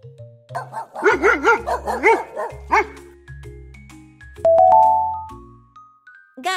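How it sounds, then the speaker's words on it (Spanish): A dog barks in a quick run of several loud, close yaps with bright harmonics, set over an upbeat children's music backing with chime-like notes near the end. "Perro."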